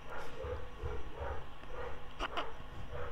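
A pet dog, an American Bulldog and Spaniel cross, barks indoors in a few short, repeated bursts over a steady background hum of a home computer game.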